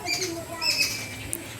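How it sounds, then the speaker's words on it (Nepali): Small birds chirping and cooing at a family home, with short high calls scattered over a faint background and a brief flutter near the end. "चरा कराको आवाज सुन्नु होला हाम्रो घरमा यस्तो छ"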